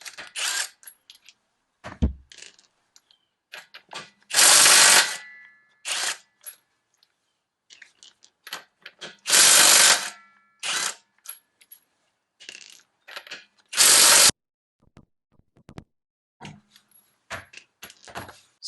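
SEYVUM 1/2-inch drive cordless brushless impact wrench on a wheel nut, three loud bursts of hammering among clinks and rattles of the nut and metal parts handled up close.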